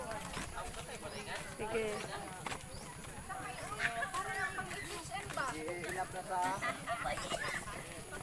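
Horse hooves clip-clop in a steady rhythm close by, continuing throughout while people talk over them.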